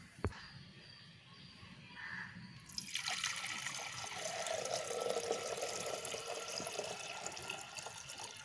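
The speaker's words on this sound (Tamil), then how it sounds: "தண்ணி ஊற்றிக்கலாம்." Water poured from a vessel into a pot on a lit stove while making traditional sweet pongal, a steady close splashing stream that starts after a brief quiet moment and keeps running.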